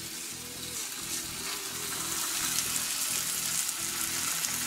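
Steady crackling sizzle of country ham frying in a hot pan, a constant hiss with a low pulsing rumble underneath.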